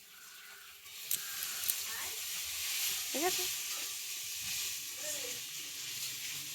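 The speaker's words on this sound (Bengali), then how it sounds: "শেষে মাছ ভাজাগুলো হলো" Fish frying in oil on a home stove, a steady bright sizzle and hiss running throughout at moderate level, with a short spoken remark and some faint kitchen clatter over it.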